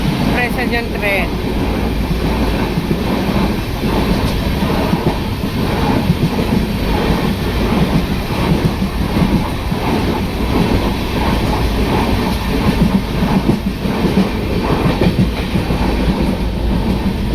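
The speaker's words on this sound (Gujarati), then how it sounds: "આપણી ટ્રેન જો ચાલુ થઈ ગઈ છે" Rolling rhythmic clatter of a moving passenger train leaving Junagadh, steady wheel clickety-clack and rumble heard from inside the coach, loud and continuous, with some people talking faintly under it.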